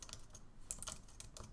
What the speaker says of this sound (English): Well, if I could get my typing right